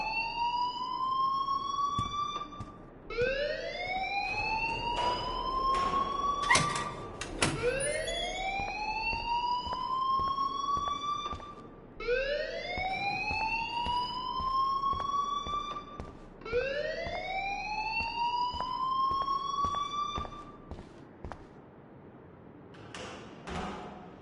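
A rising, wailing siren-like alarm in a video game sounds in repeated sweeps, loud and continuous, with a few sharp clicks between cycles before it cuts off near the end.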